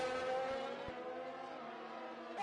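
A race car engine drones and fades in a sim racing game at Belgium, a steady harmonic whine dropping slightly in pitch as the car spins out, with a brief tire squeal near the end.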